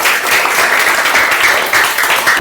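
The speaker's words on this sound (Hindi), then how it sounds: "बजाइए ताली।" Students in a classroom clap together, a loud, dense round of rapid hand claps that runs steadily for a couple of seconds with slight dips in intensity.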